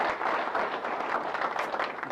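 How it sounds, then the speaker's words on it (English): A club meeting audience gives a round of applause, dense steady clapping from many hands filling the room, continuous and moderately loud throughout with no talking. "So let's give Don a round of applause."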